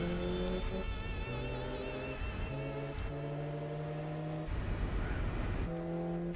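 A Chevrolet Silverado truck engine races in Gran Turismo 4, a steady droning hum with gear changes stepping the pitch up and down repeatedly, loud and constant with no talking.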